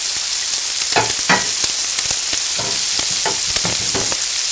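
Garlic drops into hot oil in a wok and sizzles loudly and steadily, with scattered scrapes and taps of a utensil stirring over the constant frying hiss.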